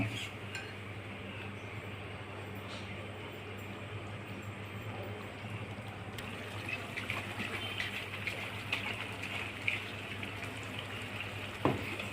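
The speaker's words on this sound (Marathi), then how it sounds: "थोडं शिजल्यानंतर आणि 1 ग्लास पाणी घालणे." A glass of water pours into kofta curry cooking in a pan, a soft continuous gush with occasional light clinks of utensils, steady and fairly faint, with no talking.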